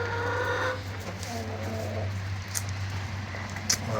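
Rhode Island Red chickens cluck softly and intermittently over a steady low hum, with no voices.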